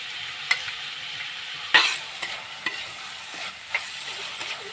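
Cooked beef for a Kerala-style stew sautéing in a pan, a soft steady sizzle punctuated by several sharp stirring clinks and scrapes, close and without talk.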